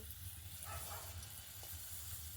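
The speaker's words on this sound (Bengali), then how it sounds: "আবার একইভাবে তেলের মধ্যে ছেড়ে দেব।" Ripe banana fritter batter dropped into hot oil, giving a steady, close hiss and sizzle of frying with faint bubbling, no voice over it.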